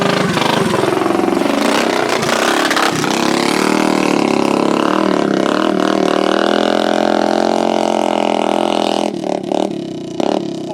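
A go-kart powered by a Predator 212 engine fitted with ratio rockers, its loud buzzing motor revving as it drives close past, the pitch shifting and then fading to a lower drone.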